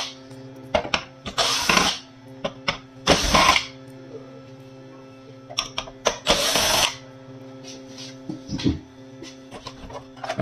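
A power screwdriver takes screws out of a photocopier circuit board. It gives several short, loud bursts separated by gaps, with faint handling clicks between them and no speech.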